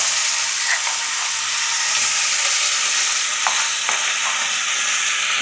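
Mixer-ground mustard spice paste frying in oil with black cumin for a Bengali pabda fish curry, a loud, continuous hissing sizzle up close with occasional light stirring clicks.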